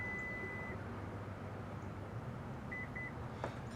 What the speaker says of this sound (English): hold the button down and listen for the beeps